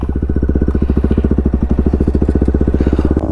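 A TVS Apache motorcycle engine idling during wheelie stunt practice, a loud, close, steady low thumping pulse with no talking.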